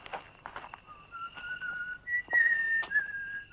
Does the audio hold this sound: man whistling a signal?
yes